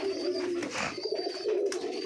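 Jalali pigeon cooing at close range, a steady low warbling call held across about two seconds, inside a pigeon farm loft with faint higher bird chirps in the background.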